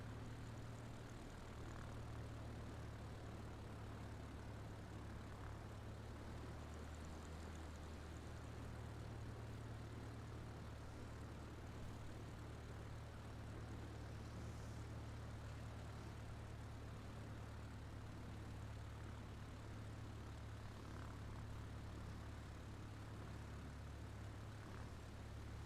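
A tail-dragger propeller plane taxis in Microsoft Flight Simulator 2020, its engine a steady, droning, low hum that holds unchanged throughout with no talking.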